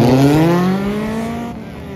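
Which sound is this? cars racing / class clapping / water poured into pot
cars racing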